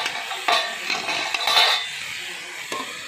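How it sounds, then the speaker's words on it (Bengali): A metal lid clanks onto a cooking pot holding greens and aubergine, giving a few sharp metallic knocks and a brief ringing scrape, close by with no talk. "একটা ঢাকনা চাপা দিয়ে দিলাম।"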